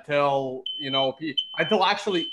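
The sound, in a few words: smoke alarm beeping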